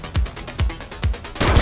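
Gunfire in the police game The Precinct: four sharp, booming shots about half a second apart, close and loud, the last ones running into a denser burst.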